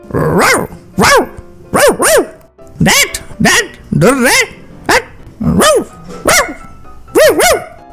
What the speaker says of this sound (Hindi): कुत्ता उसे घर के सामने झाड़ू लगाते देख जोरों से भौंकने लगता है।